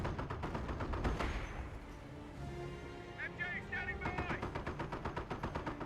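Terror MG machine gun in Company of Heroes, an Operation Market Garden 3v3 match, firing rapid bursts of rattling shots that grow denser toward the end, mixed with battlefield rumble and game effects.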